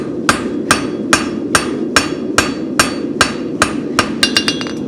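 A hammer strikes a spavin horseshoe during forging: about ten loud, evenly spaced metallic blows, then a quick burst of lighter, faster taps at the end, close and with no talk.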